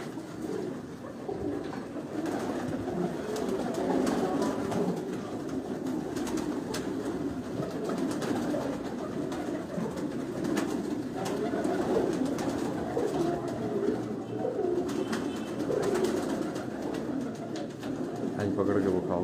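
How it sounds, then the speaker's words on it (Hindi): Black-faced breeder pigeons coo steadily at close range through the whole stretch, soft throaty calls overlapping amid background murmur and occasional voices. "ये दोस्तों ये वो कबूतर है काले मुँह वाला, ये कबूतर है, ये ब्रीडर कबूतर है"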